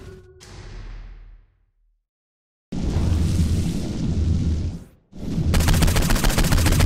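Flaming-bullet gunfire from Saints Row IV: loud, dense bursts of game weapon fire with a brief gap of silence, then sustained crackling rapid shots near the listener.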